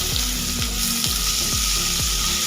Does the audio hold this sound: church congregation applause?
no